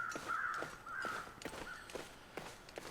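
Crows cawing in the survival game The Long Dark, a few harsh caws repeating every half second or so, mixed with soft footstep thuds of someone running across the ground.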